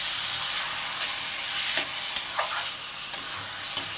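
Mixed vegetables with shrimp sauté in a pan under a steady, loud hiss of frying, while a spoon stirs through with several light scrapes and taps.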